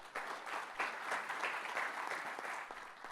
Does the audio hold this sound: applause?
yes